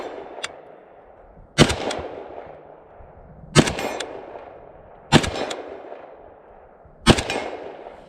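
A Palmetto State Armory AK-E rifle fires four loud single shots at spaced, fairly even intervals, each sharp crack trailing into a short echo at an outdoor range, with a faint click early on.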